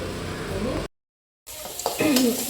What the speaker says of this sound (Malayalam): സവോള നന്നായി വഴറ്റി കൊടുക്കുക